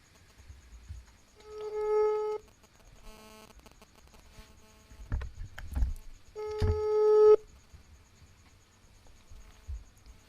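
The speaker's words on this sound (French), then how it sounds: "Ça sonne. Ça sonne, on attend." Telephone ringing on the line during a radio call-in, two tonal rings a few seconds apart with a faint buzzy line and a few soft bumps between them.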